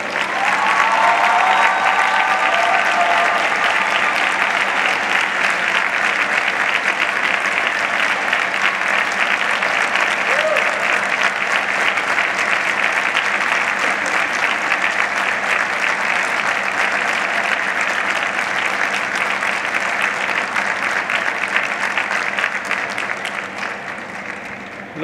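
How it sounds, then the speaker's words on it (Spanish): Sustained audience applause for graduating students at a high school graduation ceremony in May 2015, a dense, steady wash of many hands clapping that holds strongly for about twenty-five seconds before tapering slightly at the end. "Brindemos un fuerte aplauso a este distinguido grupo de graduados."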